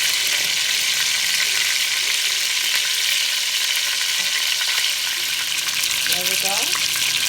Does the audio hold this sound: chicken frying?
yes